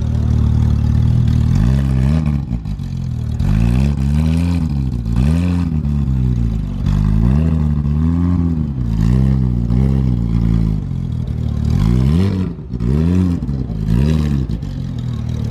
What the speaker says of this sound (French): mais il y a cette Porsche en attendant.